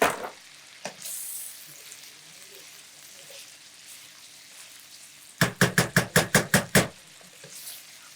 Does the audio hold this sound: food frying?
yes